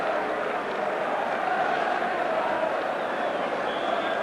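Football crowd at Meadow Lane for Notts County v Forest, a steady distant murmur of a large stadium audience at half-time, continuous and fairly even.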